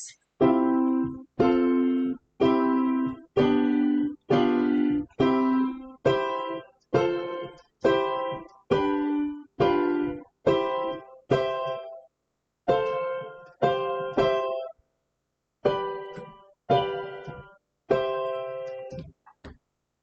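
Piano chords of a cadence are struck one after another in a steady, slow rhythm, each ringing briefly and decaying before the next, played alone and fairly quietly.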